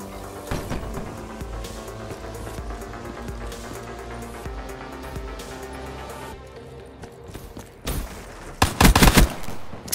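Rapid gunfire rattles through a Black Ops 3 gun game match in bursts of automatic fire, quieter stretches in between, then a loud, dense volley near the end.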